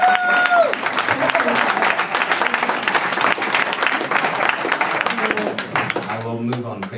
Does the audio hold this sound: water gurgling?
no